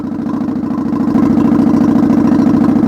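A used Harley-Davidson motorcycle engine idles while warming up, a loud, close, steady low rumble with a fast even pulse that firms up slightly partway through.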